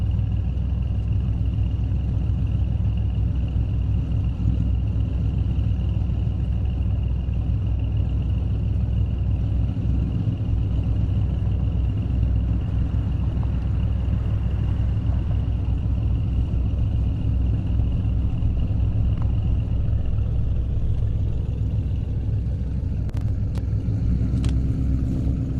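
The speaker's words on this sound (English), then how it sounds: "Zach Elliott, the Mustang GT. See it right there. Audi RS6 next to him." A Mustang GT and an Audi RS6 drag race on a half-mile airstrip, their engines a steady low rumble heard from a distance that holds nearly unchanged throughout, with no voices over it.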